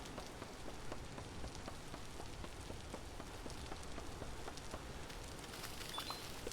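Steady, dense rain falls in the video game Vintage Story, a constant hiss with countless small pattering drops, even and unbroken throughout.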